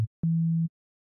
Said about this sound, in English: first, I'll change the oscillator to a sine wave.